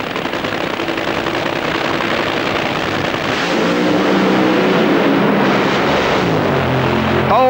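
A 1999 NHRA drag race at the Indy Nationals, with nitro dragsters roaring down the quarter-mile near 300 mph, a loud sustained engine blast that swells and holds for several seconds, alone without talk.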